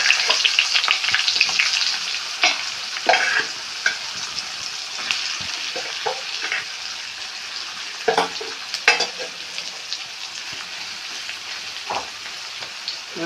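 Okra frying in coconut oil in a clay pot, a steady close hiss of sizzling broken by scattered crackles and spatters, louder at the start and settling slightly, with no talk.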